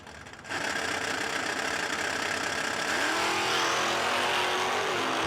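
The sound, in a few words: drag race cars racing side by side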